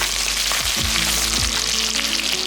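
Sliced green chillies hit a pan of hot oil and set off a loud, dense hiss that goes on without a break. A few short knocks of the pan come near the start, and nobody talks.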